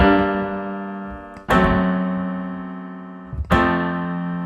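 Two sustained root-position triads ring out one after another, each struck firmly and left to decay slowly, clear and close with nothing else underneath.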